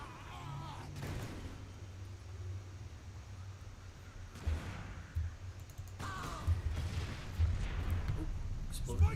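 Video game explosions and gunfire boom in a first-person shooter, several heavy blasts spaced across the clip with rumbling low-end between them.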